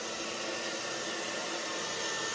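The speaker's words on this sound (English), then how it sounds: "Blow dry it with the bun in." A hair dryer blows steadily into a bag wrapped around a bun of hair, a loud continuous whooshing hiss with no pauses and no voices.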